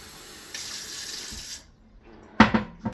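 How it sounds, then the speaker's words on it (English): Water streams steadily from a tap into a blender for a shake for about a second, then stops, followed by a few sharp clunks of handling. "So I just like to tap it off with a little bit of water."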